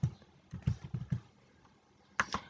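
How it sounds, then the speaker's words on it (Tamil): Quick soft taps on a keyboard enter a one-time password number: a run of light key presses, a pause, then two more presses near the end, fairly quiet and close. "அதை அப்படியே டைப் பண்ணுங்கள் மொபைலுக்கு வந்திருக்கிறத பார்த்து"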